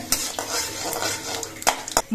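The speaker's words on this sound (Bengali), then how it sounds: "এবার মশলাটা ভালো করে ভেজে নিতে হবে।" Whole spices of cardamom, cinnamon, cloves, cumin, bay leaves and dried chillies fry in oil in a kadai while a utensil stirs and scrapes the pan, under a constant sizzle with several sharp metallic clinks.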